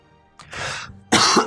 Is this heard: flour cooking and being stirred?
no